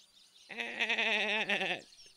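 A person imitates the bleat of a giant goat with one loud, wavering, nasal bleat of about a second and a half. It stands alone in a quiet room.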